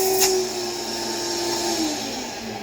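A Hoover Celebrity II Elite canister vacuum cleaner runs steadily and loudly nearby, giving a continuous motor whine with a faint pitch drift and a brief bright burst near the start.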